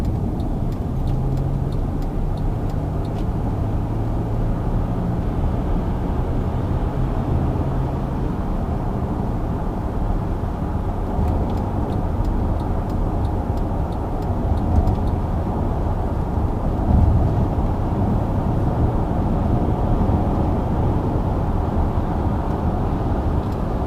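A 2010 Mercedes-Benz ML350 CDI diesel cruising on the motorway: a steady, loud interior drone of engine, tyre and road rumble with constant wind noise, unbroken for the whole stretch and with no talk.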